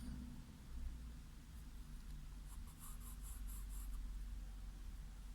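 A pencil scratches lightly across paper in soft, continuous strokes during a still-life drawing, faint and close against a quiet background hiss, with no talking.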